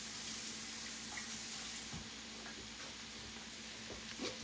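Running tap water rinsing a small chunk of fresh broccoli in a kitchen sink, a steady soft hiss with a few faint splashes and clinks.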